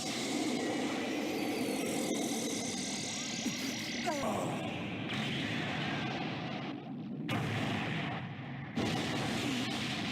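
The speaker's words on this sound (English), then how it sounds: "Piccolo's been charging his attack, and now he's ready to fire. So he does. Special beam cannon" A beam attack effect in the Dragon Ball Gekishin Squadra video game: a sustained, loud roaring blast with explosive rumble that cuts off abruptly twice near the end.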